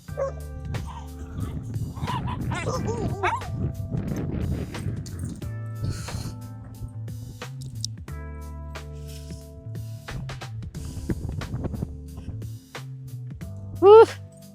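Pomelo the dog plays off leash by the sea, giving a few yips and excited barks close by over wind and shuffling, with people talking and a sharp bark near the end.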